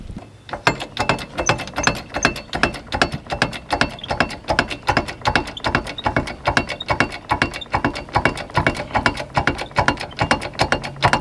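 A vehicle with failing brakes is raised with a ratcheting jack. Dozens of quick, evenly spaced metallic clicks repeat at close range throughout and build into a steady pumping rhythm, with no voices.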